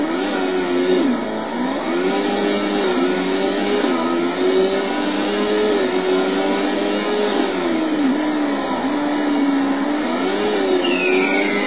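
Race car engine in the Total Immersion Racing video game, a loud continuous whining drone that rises and dips with gear changes and throttle, steady and close, with a brief higher whine near the end and no talk.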